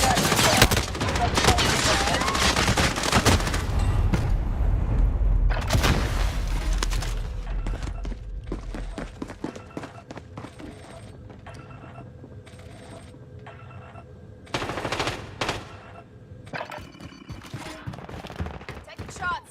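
Rapid gunfire from a video game shooter erupts in loud, dense bursts early on, then thins to scattered distant shots and mechanical clicks before another brief volley.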